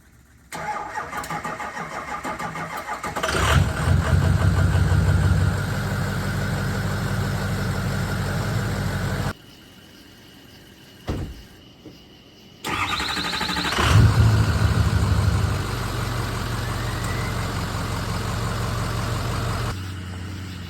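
A Ford 6.0 Power Stroke diesel fitted with a 6.0 starter cranks with a whirring starter, catches and settles into a loud, steady idle; after a brief silence it is started again, cranking and running into another steady idle.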